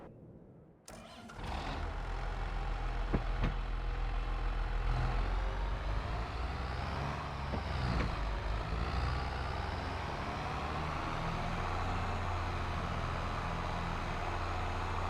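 A John Deere tractor engine in a farming video game cranks and catches after a moment of silence, then settles into a loud, steady, rumbling idle that runs to the end.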